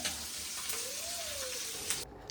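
Mustard seeds and fish fry in a hot pan, a steady crackling sizzle close up with faint popping.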